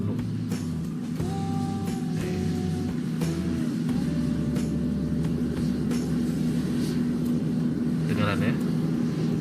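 Airplane sound effect: a steady, loud engine rumble and roar that holds throughout with a few shifting tones, while a voice talks over it.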